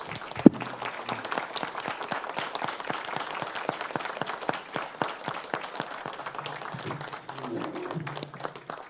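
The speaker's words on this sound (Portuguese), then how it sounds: "gostaria imensamente de uma salva de palmas para esse grupo de trabalho" An audience at a river basin committee integration seminar applauds a working group, many hands clapping steadily at moderate distance with individual claps audible in a continuous patter, fading slightly toward the end.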